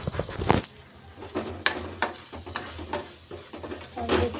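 Spices for shahi paneer fry in a pan, a close, crackling sizzle broken by repeated scraping strokes of a spoon and sharp clanks against the metal.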